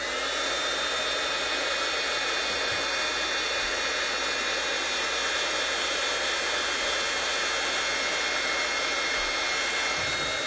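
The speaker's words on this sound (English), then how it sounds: "I'm just going to take my heat tool here and zap it and dry the ink on it." A heat tool drying wet ink on a watercolor birthday card gives off a loud, steady blower roar with a faint high whine, running continuously without a break.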